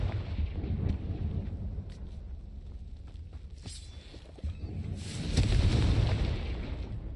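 A Confringo fire spell exploding in Hogwarts Legacy, a low rumbling blast that swells and lingers, preceded by softer magical crackles and background noise.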